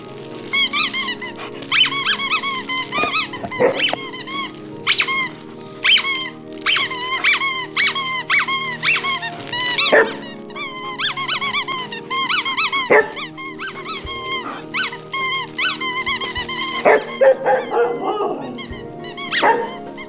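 Constant high-pitched squeaking of toys mixed with dogs barking and growling, busy and close throughout.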